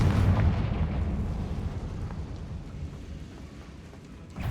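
The Confringo spell in the video game Hogwarts Legacy bursts with a heavy, close boom, and a rumbling tail fades out over several seconds.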